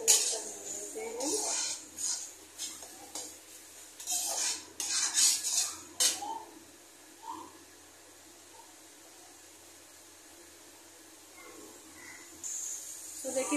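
A metal spoon scrapes and clinks against a pan while curd masala is stirred and fried for a soybean curry. The clatter comes in short, uneven spurts and then quiets to a faint background.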